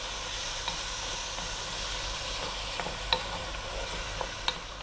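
Ripe, juicy tomatoes simmer and break down in a vegetable stew pot, giving a steady soft sizzle and hiss with a few light clicks from stirring, heard alone and fairly close.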